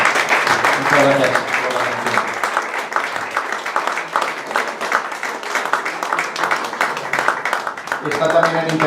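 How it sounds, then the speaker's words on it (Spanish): A small audience at a Spanish poetry evening applauds the poet Francisco, a continuous patter of clapping that carries through most of the span, with a voice speaking over the start and the end. "Y un fuerte aplauso para Francisco"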